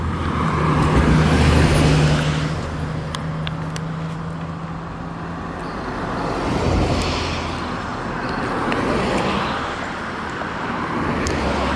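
Steady road traffic on a sunny roadside in Jamaica: a continuous broadband rumble of cars and heavier vehicles passing close by, with swells as individual vehicles go past and no talk over it.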